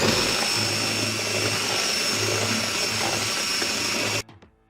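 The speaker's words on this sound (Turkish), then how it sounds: "Şimdi hepsini çırpalım." An electric hand mixer whisks spinach cake batter made with blender-pureed raw spinach, a steady loud whirring drone that runs for about four seconds and then cuts off abruptly, leaving a brief rattle.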